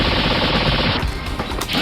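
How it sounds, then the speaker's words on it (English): Proton cannon special move fires in the Marvel Super Heroes fighting game by Capcom, a loud, dense burst of rapid blasts that cuts off partway through. "Proton cannon."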